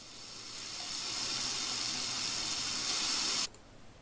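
In the horror dating game Sucker for Love, a faucet runs with a steady hissing rush that swells slightly and then cuts off abruptly near the end, leaving quiet room tone.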